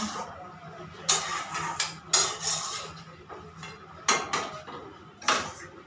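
A spatula stirs food in a home cooking pot, with irregular sharp metallic clanks and scrapes against the pot's sides at close range and quieter rustling between strikes.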